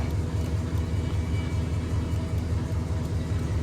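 A cold 1947 Monarch car engine, running for about a minute, idles with a steady low rumble and an even pulsing throb, close and continuous.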